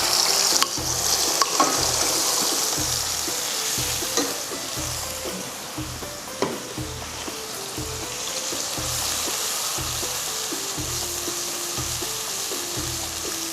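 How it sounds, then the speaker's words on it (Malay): Blended spice paste for nasi dagang sautéing in a little hot oil, a steady loud sizzle and crackle with rhythmic stirring scrapes repeating about every second, close up and with no talking. "Masukkan minyak sikit. Okey, kita tumis bahan-bahan yang kita kisar tadi."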